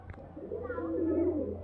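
A Giribaz or Madrasi pigeon coos close by, a single low, rolling, throaty call rising and sustained over a faint hum.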